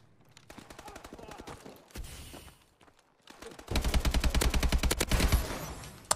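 AK-12 rifle fire in Call of Duty Advanced Warfare comes as rapid automatic bursts, the final stretch a loud, steady, fast stream of shots, close and dominant with little talk.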